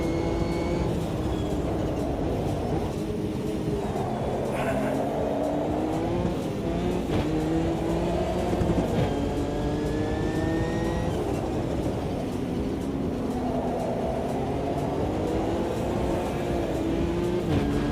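Porsche RSR race car engines in a sim racing game, a loud sustained roar with rising and falling revs through gear changes as cars run close together.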